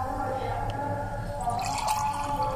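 Water pours steadily into a cooking pot holding rice, a continuous close splashing and trickling that brightens toward the end as the pot fills.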